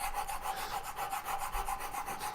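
A steel blade is drawn repeatedly across a sharpening stone to raise a burr, giving a steady rhythmic rasping scrape with regular strokes, fairly quiet and with no voices.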